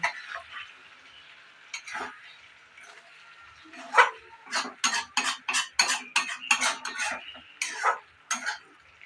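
Dahi paneer with shahi garam masala is stirred in a pan, a rapid series of metallic scrapes and clinks of a spoon against the pan, close and fairly loud, following a few softer knocks.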